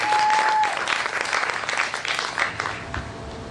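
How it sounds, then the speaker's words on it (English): An audience applauds after a poetry reading at a poetry, art and music event, a close round of clapping that starts strong and gradually thins out over a few seconds. "Give Victoria a round of applause."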